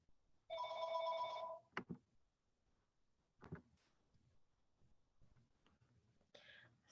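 An indoor telephone bell rings once in a short, bright burst near the start, followed by quiet clicks and faint handling noises with no talking.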